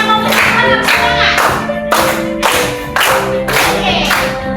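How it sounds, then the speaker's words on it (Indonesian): Children clap their hands in steady rhythm during a worship song in a classroom, the claps landing in regular beats under sung melody. "Boleh tepuk tangan. Namanya memuji Tuhan,"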